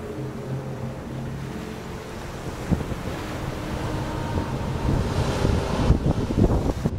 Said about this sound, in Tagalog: Ang taas ng alon, lagpas tao.